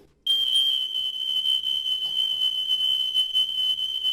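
A residential smoke alarm emits a steady, piercing high-pitched test tone that sounds loud and continuous for about four seconds, starting abruptly after a brief silence, with no speech.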